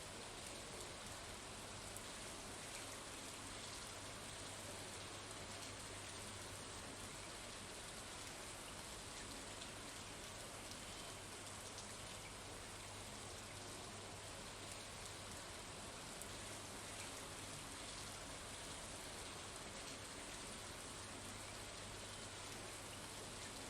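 Steady rain falls in Stardew Valley, a constant soft hiss that continues unbroken for the whole stretch with no voices over it.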